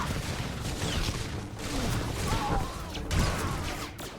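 Blaster gunfire rattles in bursts through a Star Wars: The Old Republic bounty hunter firefight, with shots and impacts layered over a busy background of combat noise.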